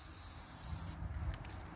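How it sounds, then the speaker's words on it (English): A steady, close hiss of a regular spray paint can for about a second, then it cuts off, leaving faint quieter noise. "I'm going to spray it right across so you can see the pattern difference"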